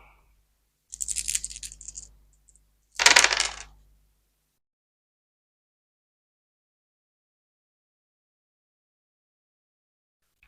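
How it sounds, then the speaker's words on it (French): Dice for the board game Explorer of the Woodlands are rolled in two quick clattering bursts on a tabletop, close and alone, followed by silence. "il va lancer les dés."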